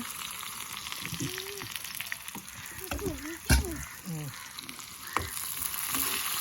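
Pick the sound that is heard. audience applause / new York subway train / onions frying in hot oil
onions frying in hot oil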